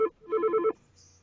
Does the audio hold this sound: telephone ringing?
yes